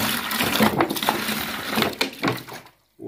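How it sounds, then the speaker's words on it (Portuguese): Water pours steadily into a bucket for mixing homemade liquid burnished cement, a broad continuous gush lasting nearly three seconds before stopping, with a short knock afterward and no talk. "vamos pôr água aqui"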